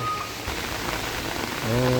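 A short stretch of steady, heavy rainfall with a dense, even hiss. A tonal hum or voice rises near the end.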